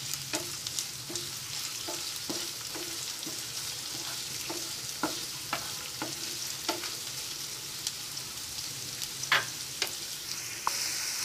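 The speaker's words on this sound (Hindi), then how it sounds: "प्याज को भी हम हल्का ब्राउन होने तक भून लेंगे।" Onions sizzle steadily in a pan of oil for bhindi masala with okra, with regular stirring clicks of a spoon scraping through them, close and continuous with no talk.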